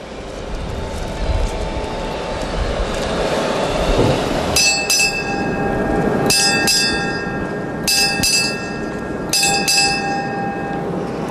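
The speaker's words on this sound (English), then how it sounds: "Strike eight bells." A ship's bell rings eight strokes in four evenly spaced pairs at the decommissioning ceremony of the aircraft carrier USS John F. Kennedy (CV-67), clear and resonant over a low rumbling background.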